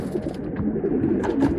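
A Chinese male pigeon coos at close range, a low throaty rolling burble with soft murmurs repeating steadily, alone without talk.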